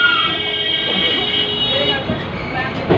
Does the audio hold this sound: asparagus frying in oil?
no